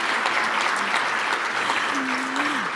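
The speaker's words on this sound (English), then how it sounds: "And now you can applaud." Audience at a women's awards ceremony claps steadily, a dense even wash of applause that holds at a constant level for the whole stretch.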